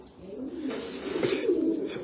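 Domestic pigeons of prized fancy breeds, including black working pairs, cooing at a bird seller's in Jordan, a soft, low continuous murmur filling the whole stretch at moderate level.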